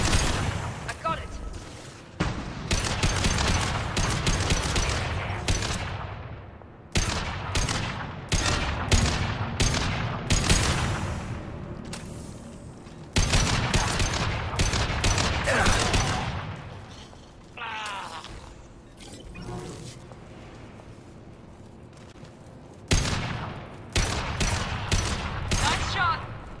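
Repeated bursts of gunfire in the video game Mass Effect 2, rapid volleys of shots in clusters separated by short pauses, loud and close throughout with brief quieter gaps.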